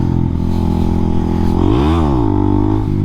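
A motorcycle engine in third gear with a slipping clutch, loud and close, holding a steady drone before the revs surge up and fall back without the bike pulling.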